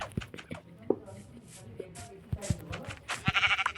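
Goats in the Minecraft video game bleat several times amid scattered clicks and in-game sounds, with a denser burst of noise near the end.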